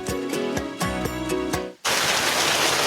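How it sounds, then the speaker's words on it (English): Steady rain pours down as a dense, even hiss that takes over abruptly after a short musical passage and continues loud and unbroken to the end. "Why is it raining? Lose the rain."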